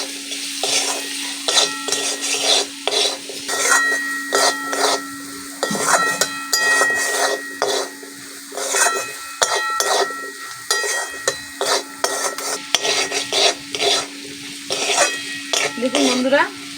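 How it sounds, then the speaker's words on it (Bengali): A spatula stirs green chilli, salt and turmeric in a hot pan for flattened-rice pulao, with a steady sizzle under repeated rhythmic scraping and clinking of metal against the pan, close and fairly loud. "আবারও ভালো করে ভেজে নেব"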